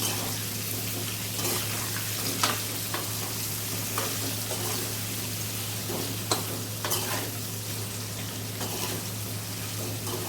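Salted raw banana slices cooking in a pan, with a constant sizzle, a low steady hum and occasional light stirring clicks and scrapes, no talking.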